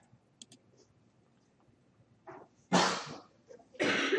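A single sharp sneeze bursts out close and loud, followed moments later by a second noisy burst, after faint keyboard clicks in a quiet room.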